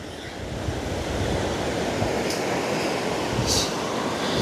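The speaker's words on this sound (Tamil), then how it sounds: "தண்ணி பாருங்க எப்படி ஓடுதுன்னு வேகமாக" Fast floodwater surges past the broken Vattuvaal bridge in Mullaitivu, split in two after heavy rain, as a steady, loud, broadband roar close by that holds constant throughout with no voices.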